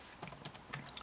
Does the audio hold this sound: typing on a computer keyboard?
yes